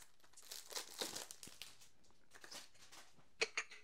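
Plastic packaging is torn open on a Sakurazaka46 CD, type A, making soft, close crinkles and rustles in bursts, ending with a couple of sharper crackles.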